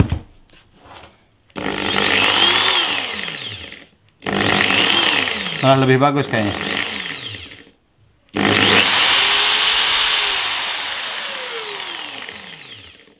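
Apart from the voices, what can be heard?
impact drill running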